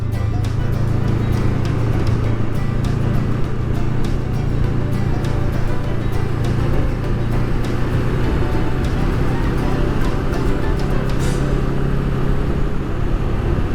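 Honda Rebel 500 motorcycle ridden along a twisty Arizona mountain road with throttle, clutch and braking work, a continuous loud engine drone mixed with heavy wind rush throughout, no talking.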